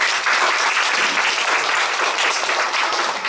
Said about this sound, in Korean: 하나님께 한번 영광의 박수.